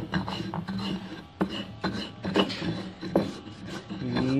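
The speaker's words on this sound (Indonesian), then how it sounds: "Kita ulek terlebih dahulu. Ini dihaluskan." A pestle grinds and rubs a fishing bait mixture in a mortar, giving repeated rasping scrapes in an uneven rhythm, close and fairly loud.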